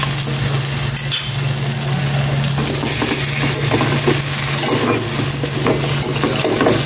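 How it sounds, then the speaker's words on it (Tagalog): Fish and aromatics sauté in a hot pan with a steady, close sizzle and occasional stirring scrapes, continuing evenly throughout with no talking. "Gisa ko muna."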